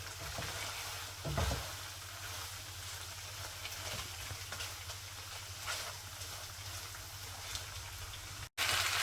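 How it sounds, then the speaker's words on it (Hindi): Chicken pieces fry and get stirred in oil with a steady, close sizzle, a brief louder scrape or clatter near the start and a sharp dropout near the end; no one speaks. "हमने चिकन की ऐसे भुनाई कर देनी है। उस वक्त तक भुनाई करनी है जब तक कि ऑयल सेपरेट ना हो जाए।"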